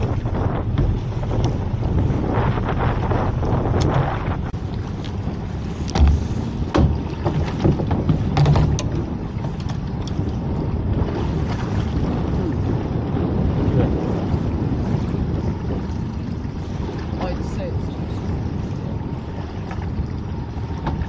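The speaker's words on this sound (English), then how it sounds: "It's getting quite breezy out here now," Strong sea breeze out on a small fishing dinghy off Orkney, blustering steadily across the microphone, a rough, roaring rush with no talk, continuous for the whole stretch.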